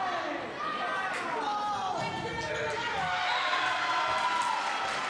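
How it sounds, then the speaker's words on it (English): A crowd cheers steadily through a high school girls volleyball game in a gym, a loud, sustained roar of voices filling the whole clip while an announcer talks over it. "And listen to the crowd."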